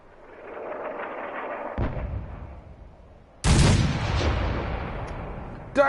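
Artillery fire in the video game Fallout: a rumbling bombardment with a sharp blast near two seconds and a louder, broadband impact about halfway through, followed by sustained roaring and another burst at the end.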